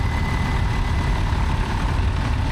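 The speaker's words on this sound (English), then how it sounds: "you start that little crawler on a petrol donkey engine, and then it kicks in and starts the main tractor engine" A crawler tractor's main engine runs steadily at a country fair after being started by a small petrol donkey engine, a loud, close, continuous low diesel rumble with no speech.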